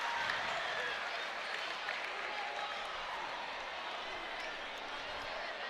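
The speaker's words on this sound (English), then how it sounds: "Crowd's giving him a hand." Crowd at a high school boys varsity basketball game applauding an injured player, a broad wash of clapping and murmur from the stands, steady and somewhat distant, fading slightly toward the end.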